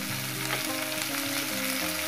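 Steady frying sizzle of vegetables in a pan, a continuous crackling hiss with faint clinks and background hum, no voices.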